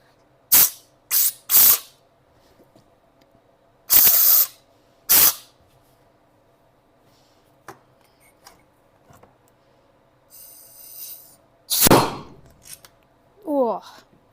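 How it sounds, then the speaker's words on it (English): An old rusty brake caliper from a Subaru Brumby gives several sharp bursts of hissing spray, then the piston pops out with a loud burst of brake fluid, between quieter clicks and rattles. "That's the piston out, and that is a lot of brake fluid coming out."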